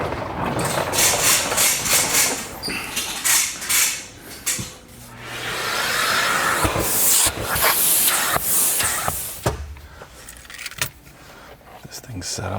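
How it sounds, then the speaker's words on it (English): A vacuum cleaner hisses and sucks inside the interior of a 2000 EM1 Civic SI, its noise rising and falling in long bursts mixed with clicks, rattles and brief speech. "Quick little vacuuming."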